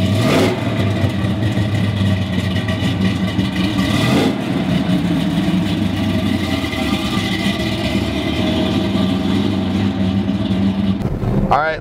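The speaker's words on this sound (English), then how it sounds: "we gotta get into that big block. Love it, it sounds fantastic." Big block V8 engine of a 1969 Chevrolet Chevelle runs loud and close, a continuous deep rumble with swelling revs throughout.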